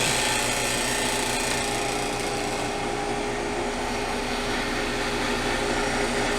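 A home freeze dryer running again for extra dry time on a batch of frozen cut green beans, with a loud, steady mechanical whir and hum that stays even throughout.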